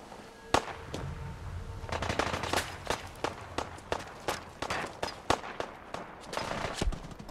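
Rapid missile and gunfire bursts in Fallout 4, a string of sharp cracking blasts at irregular intervals, loud and close, with a rumbling bed between the shots.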